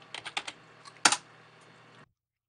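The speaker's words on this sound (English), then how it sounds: "it's hard to type with one hand" Keystrokes on a computer keyboard, typed with one hand, come as a few quick taps and then one louder clustered clack before trailing into quiet, close and alone with no voices.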